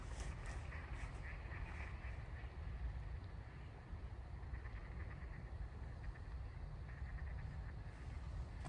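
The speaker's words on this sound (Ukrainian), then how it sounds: "На нас налетіли дикі качки, їх тут сотні, а то й тисячі." A large flock of hundreds of wild ducks quacking continuously at a distance, circling overhead, many overlapping calls over a steady rushing background of wind and wingbeats.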